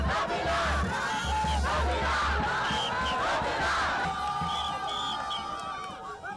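A large crowd mobs and cheers around athlete Noélie Yarigo as she leaves an airport VIP lounge, with dense, continuous yelling and shouting voices close by throughout, easing slightly toward the end.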